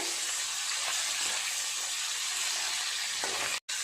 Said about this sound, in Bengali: এই তেলেই আমি ইলিশ মাছগুলো ভেজে নেব